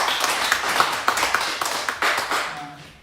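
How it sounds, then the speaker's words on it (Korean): A church congregation claps together during a Sunday worship service, a dense, even burst of many hands at close range that tapers off over about three seconds. "모두 축하와 격려의 박수 하겠습니다."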